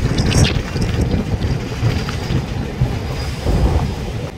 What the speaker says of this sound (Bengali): ট্রেনটা এখন পাস করছে খিদিরপুর ডক এর মধ্যে দিয়ে